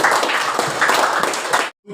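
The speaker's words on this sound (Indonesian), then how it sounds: "Oke, tepuk tangan untuk" A class of ninth-grade students claps, dense steady applause lasting nearly two seconds before cutting off abruptly, followed by a faint murmur.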